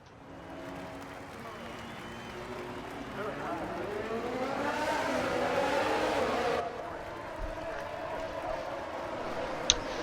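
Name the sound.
race cars on formation lap in video game F1 2022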